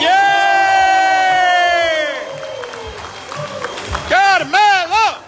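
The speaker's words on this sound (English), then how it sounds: "big round of applause for Carmelo!" A crowd at a big cryptocurrency event cheers and whoops for Carmelo, with shouted yays and rising vocal cries over a loud, steady roar; a voice talks near the start and bursts of high cheering punctuate the end.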